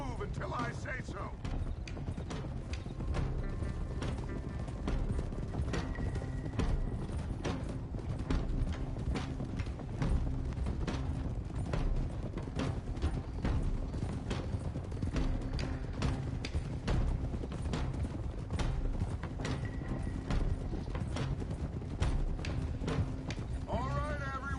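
Horses trot in a video game, their hooves beating a steady, rhythmic clip-clop that continues throughout, with faint creaks and rattling tack mixed into the dense, busy sound.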